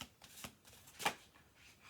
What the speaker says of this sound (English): I'm gonna do 2 more shuffle throughs